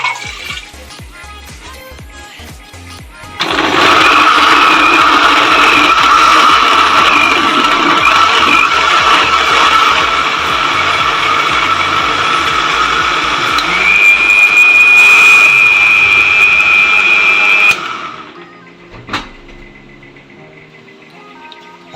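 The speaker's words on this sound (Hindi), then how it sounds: "अब हम अदरक लहसुन जो ग्राइंड करेंगे" A kitchen mixer grinder whirs loudly as it grinds ginger and garlic with water into paste, a steady high whine running about fourteen seconds after a quiet start, then cutting off abruptly.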